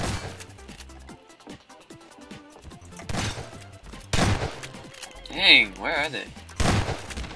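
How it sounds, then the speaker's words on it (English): Gunfire in a Garry's Mod Prop Hunt match, with several sharp shots and short bursts at uneven intervals, some loud and close, mixed with crashing impacts while a player talks. "Are you getting hurt when I shoot you?"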